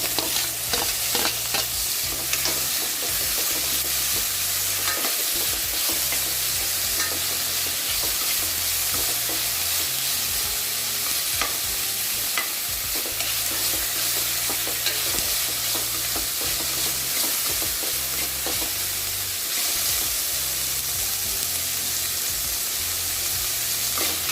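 Tomatoes with salt sautéing in a pan for a bitter gourd dish: a steady, close frying sizzle with repeated stirring scrapes running throughout, no talking.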